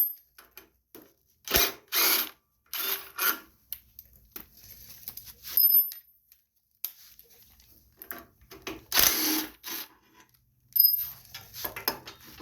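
Bursts of rapid ratcheting clicks sound up close, separated by short pauses, as a 6mm Allen wrench works the bolts loose on a 2007 Wacker WP1550 plate compactor.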